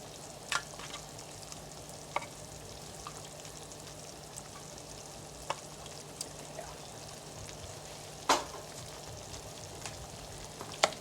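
Marinated tamarind shrimp fry in a hot pan with a steady soft sizzle, broken by occasional sharp crackles and pops, moderately quiet and without talk.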